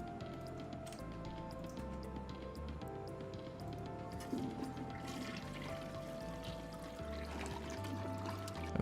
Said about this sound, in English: that's supposed to be flush sound